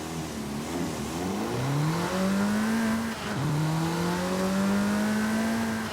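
A Renault Clio RS16 Concept engine in Forza Horizon 5 revs up and down repeatedly, rising in pitch with each acceleration, with a short drop between the two climbs.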